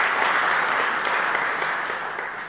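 Audience at a conference marking an Italian anti-mafia agency's anniversary gives a steady, dense round of applause that holds throughout, easing slightly near the end, with no voices heard.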